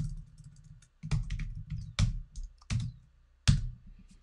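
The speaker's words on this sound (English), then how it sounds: "I need to type in the name of the lettering object." Typing on a computer keyboard while entering a lettering object name in embroidery software, short bursts of close, crisp key clicks separated by brief pauses, no talking.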